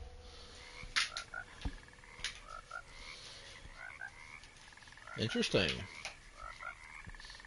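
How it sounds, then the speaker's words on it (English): A frog in Alone in the Dark croaks in several short, raspy bursts amid a dark, sparse ambience, with one louder, nearer croak; a person says a word briefly. "A frog."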